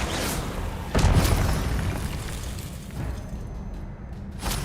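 Confringo blasting curse going off in Hogwarts Legacy, a loud booming burst near the start followed by a sustained roar and a second crack at the end, layered over dense game sound.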